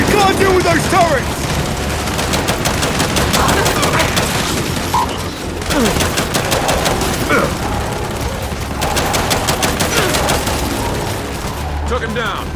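Sustained turret gunfire and explosions fill a Gears 5 firefight on Xbox Series X, a dense, loud barrage of repeated shots and booms running almost continuously, with shouted voices mixed under the combat.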